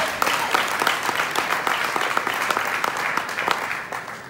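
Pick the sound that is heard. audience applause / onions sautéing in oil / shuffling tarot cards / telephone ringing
audience applause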